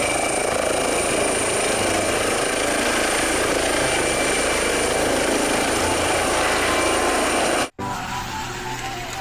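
A helicopter drones loud and close, a steady thudding rotor roar with a high whine for about eight seconds before a brief cut.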